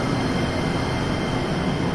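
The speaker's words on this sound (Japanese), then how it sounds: "電車は発車します。" A JR train pulling out of Amagasaki Station gives a steady, close rumble of wheels and motor, constant and unbroken, without speech.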